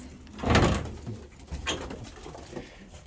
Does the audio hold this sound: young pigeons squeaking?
yes